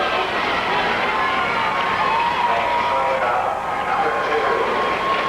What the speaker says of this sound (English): A good crowd on hand for this qualifying round one game